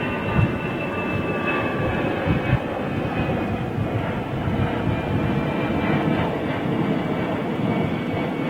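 Aircraft at London Heathrow Airport, a steady broadband engine roar with a faint whining tone, continuous and fairly loud throughout with no talk.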